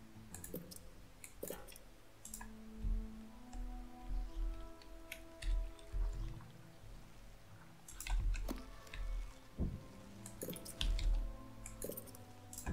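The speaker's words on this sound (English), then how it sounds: "Oh, water rising." Rising water in the ant colony strategy game Empires of the Undergrowth makes irregular drips and small clicks, with soft squishy ticks scattered over a quiet bed of game sound.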